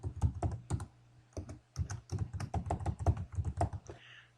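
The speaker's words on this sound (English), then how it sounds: "I'm just going to type Season's Greetings." Keys clatter on a computer keyboard in close, uneven bursts of clicks with brief pauses, a message being typed at a steady pace with no voices.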